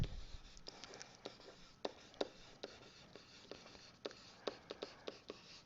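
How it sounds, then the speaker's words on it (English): A pen or pencil writes the word apprehensive on a paper worksheet, producing soft scratchy strokes and light taps in quick irregular bursts, close and quiet. "I'm going to write the word apprehensive"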